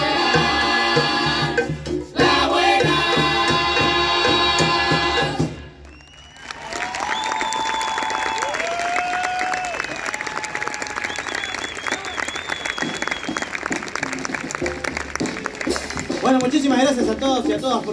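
Audience applause follows a murga performance, with music playing before a brief dip and crowd cheering and clapping rising under a voice and instruments.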